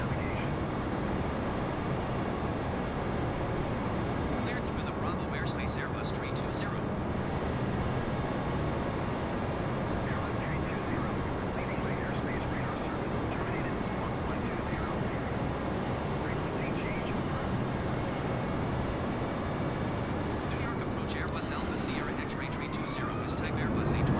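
An aircraft flies over New York City in the video game Flight Simulator 2020, giving a steady, dense engine drone that holds at an even loudness throughout, with faint clicks now and then.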